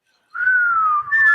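A single sustained whistle tone rings out clear and fairly loud for about a second, briefly dipping before a slightly higher final burst, with nothing else around it.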